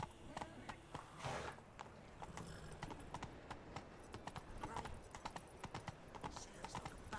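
A horse's hooves clip-clop at a steady walking rhythm on a path in The Witcher 3 video game, crisp, evenly spaced hoofbeats over faint ambient background.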